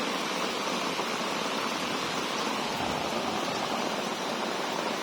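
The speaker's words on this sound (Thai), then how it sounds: "ฝนตกได้สักพักหนึ่งแล้วนะคะ" Heavy rain pours down during a big storm, forming a dense, steady, unbroken hiss that fills the whole stretch at even loudness, with no voices.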